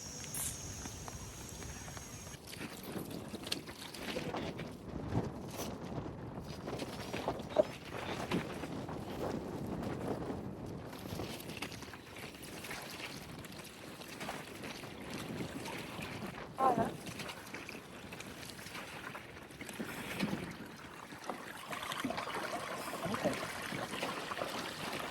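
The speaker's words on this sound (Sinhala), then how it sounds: "සෙටම් අපි දැන් යනවා බෝට් රයිඩ් එකට." Boat ride on Habarana lake in Sri Lanka at sunset: soft water movement, wind and low rumbling hull and engine noise throughout, with occasional knocks and faint voices in the background.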